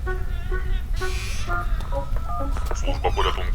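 A sequence of telephone keypad dialing tones plays in a Ukrainian children's safety cartoon, clear beeps in quick succession over background music after a short burst of noise.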